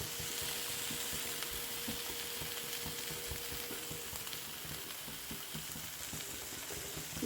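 Beans and potatoes sizzle and fry in a pan, with a steady, quiet crackle and occasional scraping stirs over a continuous hiss.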